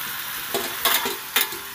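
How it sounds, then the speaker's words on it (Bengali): Fried potatoes and jackfruit sizzle in hot oil while a spoon stirs them, giving three or four louder scraping, crackling bursts over a constant fry. "ভাজা এঁচোড়টা আর আলুটা দিয়ে সুন্দর করে নেড়ে চেড়ে কষিয়ে নেব।"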